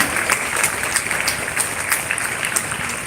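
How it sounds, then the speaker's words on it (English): Applause at a school council investiture ceremony, with many hands clapping in a fairly even, moderately loud patter and a few sharper claps standing out now and then. "A big round of applause again."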